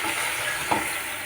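Water poured into a hot, sizzling pan while a potato dish cooks, a dense continuous hiss with a brief splash-like burst midway, close and loud, no talking.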